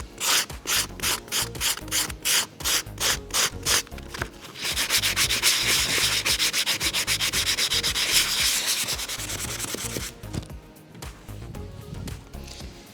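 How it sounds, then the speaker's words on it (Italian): Sandpaper is worked by hand along the edges of painted wooden furniture to give a distressed finish. A run of quick rhythmic rasping strokes turns into a steady continuous scrubbing, then eases into lighter rubbing. It is close and clear, with no talk. "Io oggi non farò un décapé troppo forte, è proprio solamente una finitura delicata sui bordi"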